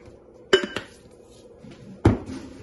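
Muffin ingredients, sugar among them, are mixed in a large bowl, giving two sharp knocks of a utensil against the bowl amid quieter scrapes and clatter, close by, with no talking.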